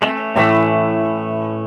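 A Marshall guitar amplifier on its distortion channel rings out with a loud, sustained overdriven chord, one fresh strum near the start, then holding steady and bright.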